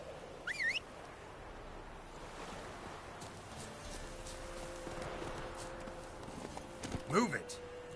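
Hooves of the horse Roach clip-clopping in the game The Witcher 3: Wild Hunt, a soft steady trot over ambient wind and water, with short bird chirps and a brief voice near the end.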